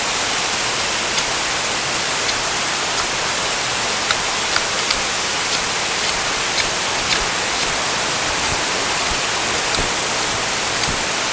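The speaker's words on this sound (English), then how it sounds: "Man, it is raining" Heavy rain pours steadily outdoors in a wet woodland camp, a dense, continuous hiss with scattered sharper drips and patters, close and loud throughout with no voices.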